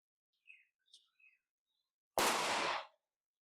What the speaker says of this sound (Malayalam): ഏതോ അപ്പുച്ചേട്ടൻ പടക്കം പൊട്ടിക്കുന്നുണ്ട്